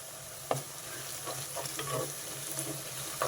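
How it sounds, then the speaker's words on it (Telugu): Onions sizzle steadily in an oil-filled pan for a cauliflower and green peas masala curry, with a spoon occasionally clicking and scraping as they are stirred, heard close and alone. "చూసారా, ఉల్లిపాయలు బాగా వేగినాయి."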